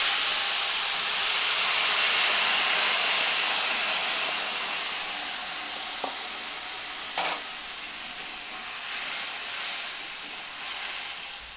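Marinated soya chunks hit hot spiced oil in a pan, setting off a loud, steady broadband sizzle that slowly eases, with a couple of brief crackles and spits near the end and no talking.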